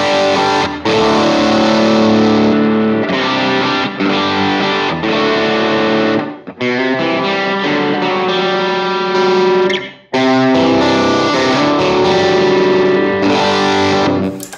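Distorted electric guitar through a Line 6 HX Stomp running an AC30 amp model with top boost and treble turned up, playing loud ringing chords with fizzy overdrive, brief gaps between strums and no talking.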